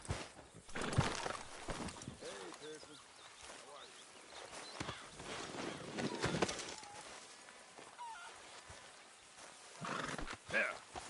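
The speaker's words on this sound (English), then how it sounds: "Hey, get that horse out of here!" Horse hooves clip-clop and a horse whinnies amid game sound effects, with voices talking over them.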